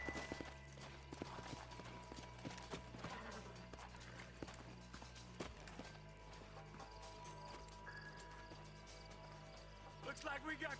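Horse hooves clip-clop steadily through a Red Dead Redemption game scene, close and rhythmic, with spoken dialogue over the hoofbeats and a brief whinny near the end.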